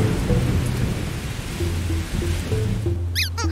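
Heavy thunderstorm rain hisses steadily while low rumbling thunder rolls beneath it, loud and continuous throughout.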